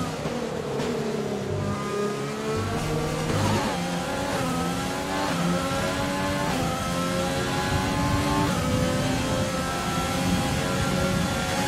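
F1 race car engines in a video game at the Italian Grand Prix, loud and continuous, with rising and falling revs through gear changes, sustained throughout without speech.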